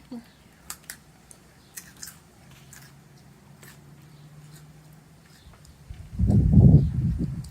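A child bites into and chews crunchy raw carrot, a loud burst of crisp crunching near the end after a stretch of quiet with faint background sounds.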